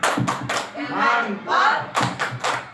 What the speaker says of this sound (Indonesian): beri tepuk mantap buat kedua CGP kita ya